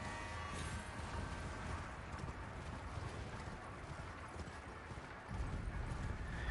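Horse hooves clip-clop steadily in the video game Elden Ring, a continuous rhythmic trot over a dense, loud background that persists throughout.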